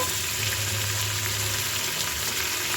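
Chicken pieces for biryani go into a pan of onions fried golden, giving a loud, steady, hissing sizzle that holds unbroken throughout.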